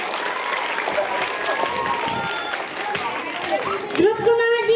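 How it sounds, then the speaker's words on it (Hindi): Crowd applause at a school Independence Day celebration, a dense continuous patter of clapping mixed with chatter and voices, with a louder voice rising near the end. "इसलिए तालियां जरूर बज लीजिए"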